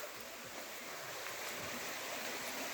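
A clean village stream runs below a field, a steady broadband rushing and gurgling of water, moderately distant and unbroken, with no voices over it.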